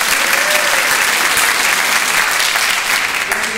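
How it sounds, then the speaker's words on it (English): An audience at a talk presented by Davis Parent University applauds, a loud, dense burst of clapping that runs steadily throughout. "Big hand, big round of"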